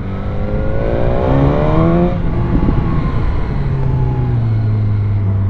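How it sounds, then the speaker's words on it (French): A BMW S1000R hyper roadster's inline-four motorcycle engine revs hard and loud, close by. Its pitch sweeps up, drops, then climbs again and settles into a sustained high drone, with no talking. "On connaît bien le son d'un 4 en ligne"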